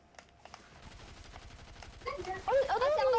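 Gunfire crackles in a battle royale video game, scattered single shots at first, then a denser burst near the end, with a faint tonal game effect rising underneath.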